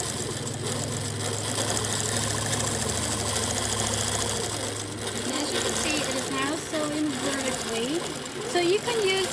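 A sewing machine stitches quilt sashing with a fast, even mechanical hum and rhythmic needle chatter that runs continuously, and a voice talks over it in the latter part.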